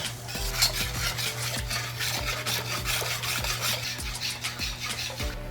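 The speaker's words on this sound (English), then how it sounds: "you have to make sure you mix out all the ingredients and the sugar until it's really liquid" Easter bun batter with sugar is beaten steadily in a bowl, giving a close, continuous rubbing and scraping stir with a regular rhythmic tap of the spoon against the bowl roughly every half second, without any speech.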